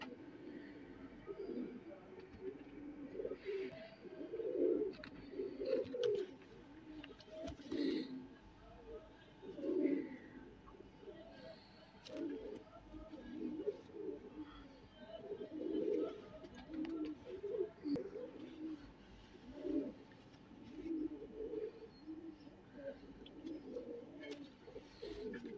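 Golden pigeons cooing in a loft, soft repeated low coos and purring calls near and far across the whole stretch, with someone talking quietly in between.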